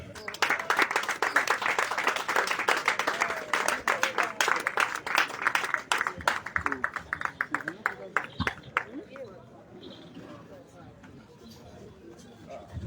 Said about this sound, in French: Sous vos acclamations, Motaria